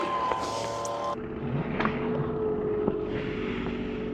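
RoadRunner Pro electric bike, capable of 50+ mph, riding up a street in rocket mode, heard as a steady whirring drive under broad wind rush, close and continuous with a shift in tone partway through.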